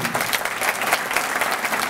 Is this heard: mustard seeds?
no